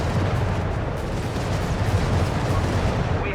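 A rocket strafe strike in Company of Heroes 3 hits as a continuous loud roar of blasts and crackling impacts, dense and unbroken from start to finish.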